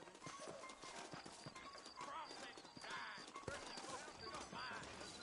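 Horse hooves clip-clop in a brisk rhythmic gait in the video game Red Dead Redemption, with a brief whinny and a voice talking over the steady hoofbeats.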